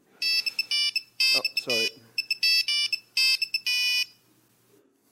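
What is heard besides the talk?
phone ringtone ringing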